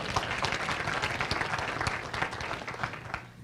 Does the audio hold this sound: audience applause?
yes